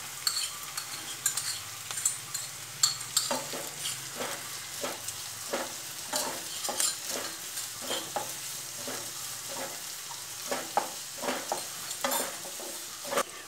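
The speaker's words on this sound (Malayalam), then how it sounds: "സവാള നന്നായിട്ട് വഴന്ന് വരണം" Onion, green chilli, ginger and garlic sautéing in a pan for a Kerala-style chickpea curry, with a steady soft sizzle under repeated scraping stirs of a spoon against the pan, close and continuous with no talk.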